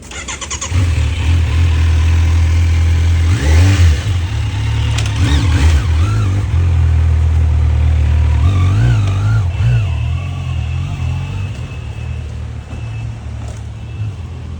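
A Kawasaki Z900 motorcycle on its stock exhaust idles with a steady low rumble and gets revved in a few short bursts, loud and close, with no talking over it.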